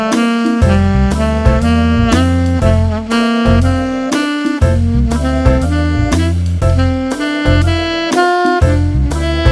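Guitar plays a steady four-note-per-step scale pattern in strict time over a full, loud backing track with bass and drums, the notes running continuously throughout without any talking.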